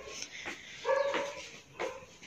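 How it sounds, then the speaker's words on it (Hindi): A household dog barks several times over about two seconds, sharp and fairly close with short gaps between barks, the barks tapering into whimpering yips, with no talk. "Doggy is barking."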